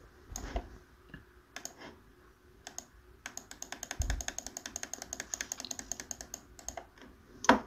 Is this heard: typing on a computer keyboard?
yes